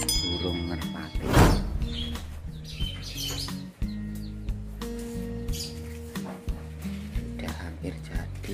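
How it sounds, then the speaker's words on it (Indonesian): Pigeons coo and chirp softly nearby while people talk during construction of a pigeon coop, with a few scattered thumps and knocks. "Burung merpati."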